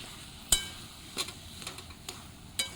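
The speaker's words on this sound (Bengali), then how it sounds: "এবার এটাকে 5-10 মিনিট ভালো করে এভাবে কষে নেব।" A spoon stirs boiled kochu shak (taro leaves) frying with fish head and spices: a few sharp scattered clinks against the pan over a faint, steady low sizzle, quiet overall.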